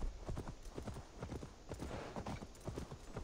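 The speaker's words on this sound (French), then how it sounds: "Et le cheval veut bien avancer." Horse hooves clip-clopping at a steady walking rhythm in the video game Assassin's Creed Valhalla, close and fairly loud over continuous ambient game sound.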